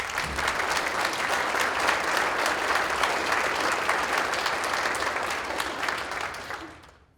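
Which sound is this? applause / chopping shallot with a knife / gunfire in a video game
applause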